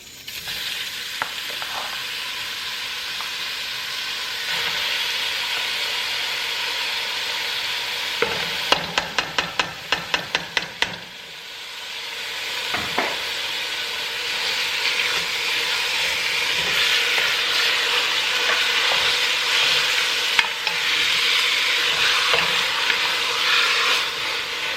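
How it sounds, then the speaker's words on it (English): Ground chicken sizzles and fries in a pot heated to medium-high while being stirred, a steady close crackle with scraping stir strokes and a brief burst of rapid clicks partway through; no voices. "I'm gonna cook the ground chicken. So that's the first step. And my pot is heated up."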